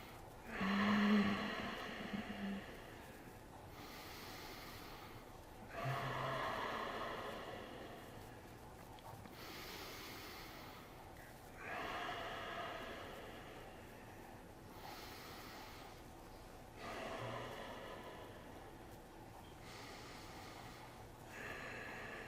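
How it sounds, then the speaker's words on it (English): Slow nasal breathing during a calming relaxation exercise, with about five paced cycles of audible inhales and exhales through the nose, soft and close, with no talk. "5 breaths in the nose, out the nose, hero's breathing."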